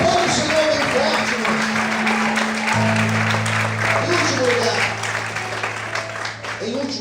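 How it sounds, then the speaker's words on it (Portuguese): Sustained, vigorous clapping from a church congregation rolls on for several seconds over held keyboard notes and scattered voices, easing slightly toward the end. "Aplaude o Senhor bem forte,"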